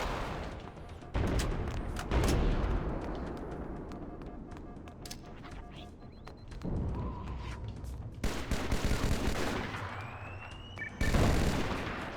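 Grenades bursting in Halo CE combat, several sharp loud blasts spread across the stretch amid scattered gunfire and battle noise.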